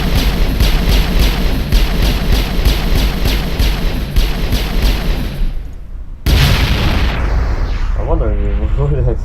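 Loud explosions and gunfire in Mass Effect pound in a rapid, regular stream of close blasts. The barrage cuts off abruptly, then a burst of noise follows and a voice speaks near the end.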